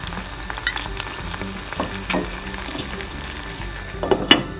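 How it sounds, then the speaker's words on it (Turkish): Zucchini flowers frying in a little olive oil in a pan give soft, light crackles and pops under a steady low sizzle, close by, with a few louder pops near the end. "Kabak çiçeğinden suyunun bittiğine dair hafif çıtırtılar geliyor, sesler geliyor."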